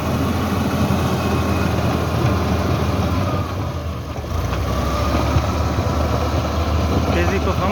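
An Al Ghazi tractor engine runs steadily, a constant loud diesel drone that holds throughout with one brief dip near the middle.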